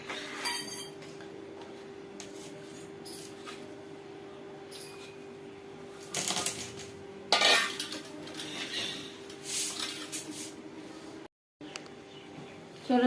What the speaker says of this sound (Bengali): চলুন তাহলে কেটে নিই আমি আলুগুলো।